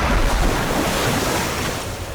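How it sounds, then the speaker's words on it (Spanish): Ocean waves surging on a shore with wind roaring, a loud continuous wash of surf and gusts that eases slightly toward the end, with no voices. "Las olas comenzaron a retroceder, alejándose de la orilla. El viento comenzó a rugir alrededor"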